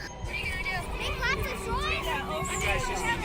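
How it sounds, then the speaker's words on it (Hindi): Children play and shout in the background, a lively babble of young voices at moderate distance. "बच्चे की खेलने के शोर"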